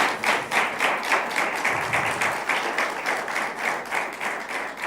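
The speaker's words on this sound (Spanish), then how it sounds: "vamos a recibirlo con un fuerte aplauso" A crowd applauding steadily for several seconds, dense rapid clapping that swells and holds without voices.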